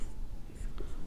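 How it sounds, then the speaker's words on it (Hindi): Chalk or marker writing on a board during a Hindi chemistry lesson on redox reactions, heard as soft, faint scratchy strokes over a quiet room hiss, with no talking. "तो देखो जरा यहां से लिख रहा हूं"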